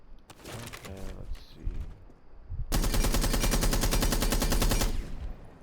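Automatic rifle fire with a muzzle brake in Rainbow Six Siege, a loud sustained burst of rapid rhythmic shots lasting about two seconds, preceded by quieter clicks and handling noises.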